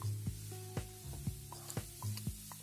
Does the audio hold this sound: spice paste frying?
yes